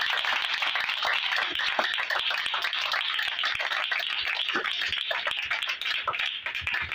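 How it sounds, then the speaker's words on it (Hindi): A church congregation bursts into loud, sustained applause, dense overlapping hand claps filling the room steadily throughout with no speech on top. "खुदावन के लिए जोरदार तालियां।"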